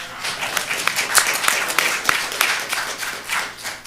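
Brief burst of audience clapping at a city council meeting, moderately loud with scattered individual claps standing out.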